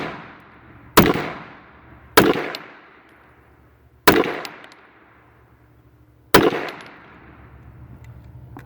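Four loud, sharp gunshots from an AMT AutoMag II .22 Magnum pistol ring out at uneven intervals, each with a metallic clang and a decaying echo that trails off before the next.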